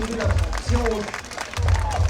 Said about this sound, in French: je pense qu'on peut applaudir les skateboarders s'il vous plaît